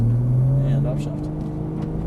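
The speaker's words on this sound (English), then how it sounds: "And upshift." A Nissan GT-R engine drones on a race track, its pitch dropping sharply as it shifts up a gear, while a voice talks over the steady engine hum.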